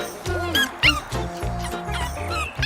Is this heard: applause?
no